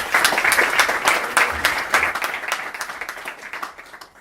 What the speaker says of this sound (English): Round of applause for Adele, guys.